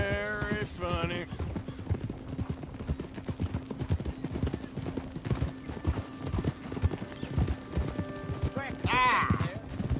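Horse hooves clip-clop steadily and close in Red Dead Redemption 2, a regular rhythmic beat running throughout over a music bed, with a brief whinny near the start and another near the end.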